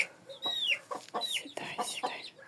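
A hen clucking in a backyard poultry yard, a quick series of close clucks and short squawks.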